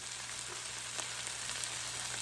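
Canned chickpeas and sardines sizzle steadily in a hot pan, a continuous near frying hiss with small pops and no voices.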